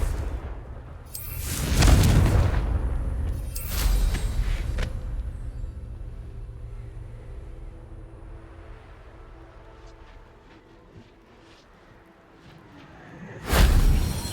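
Confringo blasting spell in Hogwarts Legacy: a few loud, broad explosive blasts with whooshing tails, spaced seconds apart over a low ambient rumble, the last arriving after a long quiet stretch.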